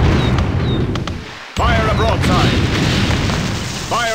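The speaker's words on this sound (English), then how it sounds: "Fire a broadside!" Deep, loud cannon booms from a ship's broadside in the game Anno 1602 roll continuously, break off for an instant, then resume as a heavy rumbling barrage.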